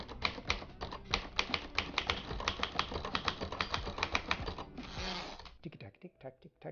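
Manual typewriter keys clack in a quick, uneven run of sharp strikes, then a brief rasp like the carriage sliding before a few scattered final taps, close and fairly loud.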